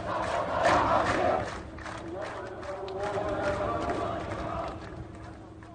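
Protest crowd in Amman chanting against Israel, rising to a loud surge of massed voices early on, then continuing as a rhythmic, rougher chant, with a newsreader's voice running over it.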